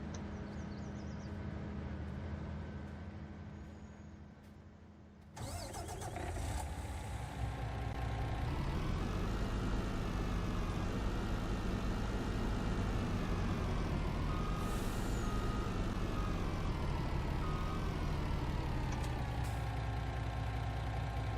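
A truck in Farming Simulator 19 sits quiet at first, then its engine starts abruptly and settles into a loud, steady diesel drone that rises and dips as it pulls away during a harvest on a farm.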